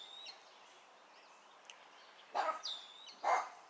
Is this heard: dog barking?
yes